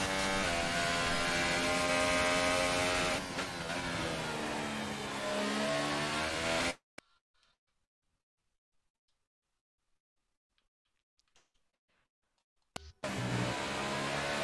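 A GP2 race car on track in Spain in a racing video game, its engine revving loud and high for several seconds, then cutting to near silence before roaring back.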